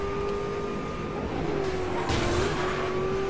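A car in a Need for Speed game skids under the handbrake, a sustained tire squeal over engine drone, close and loud with a brief surge near the end.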